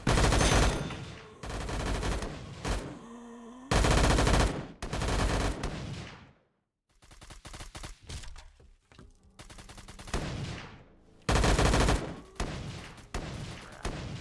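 Loud bursts of rapid gunfire in VRChat, machine-gun fusillades and sharp single shots coming in clusters with brief gaps between them.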